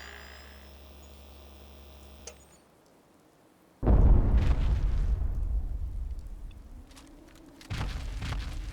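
A Lance Strike orbital explosion in modded Fallout 4 hits with a sudden loud boom, then a long rumbling roar that slowly fades, followed by another burst of blast noise near the end.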